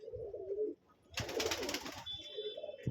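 Pigeons in a home loft, a close brooding bird cooing in low throaty bursts, interrupted by a short burst of flapping or scuffling in the middle, then cooing resumes over a faint high whine.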